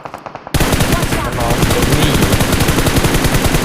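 Rapid automatic gunfire in the mobile game PUBG Mobile, a few separate shots followed by a loud, sustained burst of evenly spaced rounds close to the listener.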